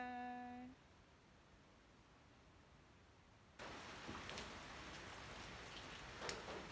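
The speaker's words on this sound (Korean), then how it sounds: "비가 와서 멋진 날." Outdoor rain falls in a steady, soft hiss that starts abruptly partway through, after a short tonal note and a quiet stretch, with no voices.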